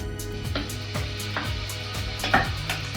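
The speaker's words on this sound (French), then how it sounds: "le beurre un peu fondu, donc je vais pouvoir écraser mon ail" Garlic being crushed in a pan of partly melted butter, a series of soft, sharp, irregular knocks and scrapes, close and fairly quiet, against a steady low hum.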